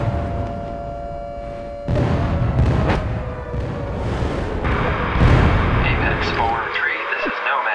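An artillery fire support strike in World in Conflict: heavy booming impacts land at intervals with rumbling aftermath, and a radio-style voice speaks over the barrage.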